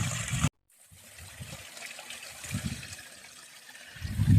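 A mountain stream along the Appalachian Trail trickles and gurgles over rocks, a soft uneven burble with brief louder splashes, close by after a short cut-off at the start, with no talking.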